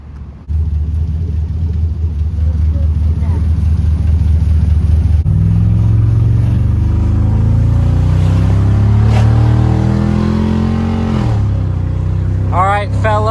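Engine of a brand-new 2025 Can-Am 1000 Backcountry side-by-side idling with a steady low rumble, then revving up in rising and falling surges, loud and close throughout, with brief voices near the end.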